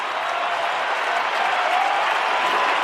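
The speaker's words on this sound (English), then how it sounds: "And it's the biggest roar of the night here at Docklands." Stadium crowd at Docklands roaring and applauding after a goal in an Australian football match, a huge continuous wash of cheering and clapping that holds steady throughout.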